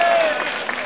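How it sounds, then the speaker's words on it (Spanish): Audience applause at an anime convention panel, a dense, steady wash of many hands clapping close and loud, holding for under a second with no pause. "Yo le el codo así y yo grito, ¡fuertes aplausos!"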